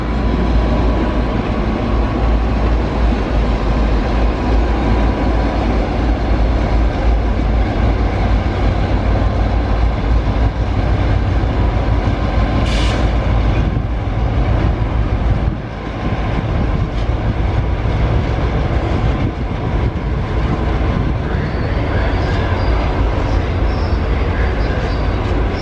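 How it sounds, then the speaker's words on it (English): The Spirit of the Outback long-distance train and a suburban train pass together in Brisbane, giving a loud, continuous rumble of wheels and rail noise, with a brief high squeal partway through. "Suburban train going at the same time as the Spirit of the Outback is heading out."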